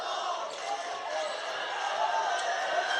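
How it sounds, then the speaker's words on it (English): Basketball fans at a high school boys game in a gym, Indianola supporters cheering for a bench player, a steady roar of crowd noise filling the space without pause, with an announcer's voice over it. "Indianola fans are cheering for Tom Krapfel"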